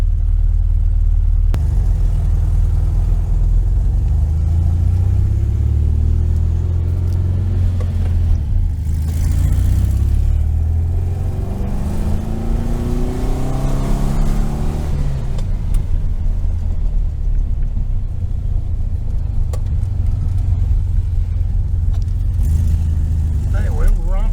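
A 1973 VW Super Beetle with a Dellorto FRD 34B carburetor drives along, its air-cooled engine droning loudly and steadily, then climbing in pitch as it revs higher partway through before settling back.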